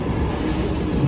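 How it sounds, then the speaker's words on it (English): Amtrak Capital Corridor passenger train led by an SC44 Charger locomotive rolls into Emeryville Station, a steady close rumble of wheels on rail with a high metallic squeal rising near the end. "This train is headed to Sacramento, arriving at Emeryville Station"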